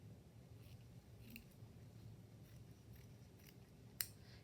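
Scissors cutting two felt pieces at once, quiet and close, with a few soft snips and one sharp click near the end over low background hiss.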